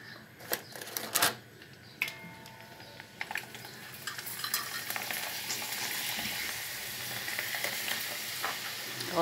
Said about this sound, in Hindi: फिर मैं नेक्स्ट पापड़ इसमें फ्राई करती हूँ